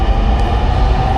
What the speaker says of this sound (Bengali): এখান থেকে আমরা মেট্রো থেকে নামতেছি